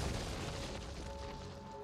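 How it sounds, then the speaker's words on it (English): A turret is destroyed in League of Legends, a dense, rumbling boom of crumbling debris that fills the whole short moment at moderate loudness. "Destroyed a turret."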